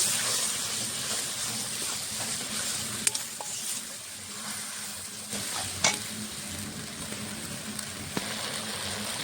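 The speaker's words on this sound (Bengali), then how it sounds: "এখন মশলাটা ভালো করে কষিয়ে নেব" Spice masala of chilli powder, salt, turmeric and coriander powder being stir-fried in oil in a pan for a Bengali fish curry, a steady soft sizzle and hiss with occasional scraping clicks of the spatula, no talk.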